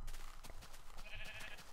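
A Minecraft sheep bleats once, a short, faint, wavering cry over a low background murmur.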